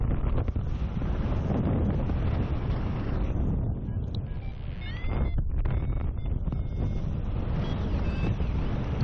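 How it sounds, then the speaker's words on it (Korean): Strong wind roars steadily across the microphone during a paragliding flight, a loud continuous rush that dips briefly midway before returning full force. "바람이 세기 때문에"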